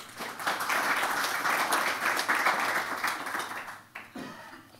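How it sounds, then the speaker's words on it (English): An audience at a community energy talk claps to welcome the speakers, a moderately loud wash of applause that swells, holds, then thins out toward the end. "I'd like you to give a round of applause for both of them in anticipation of their great talk"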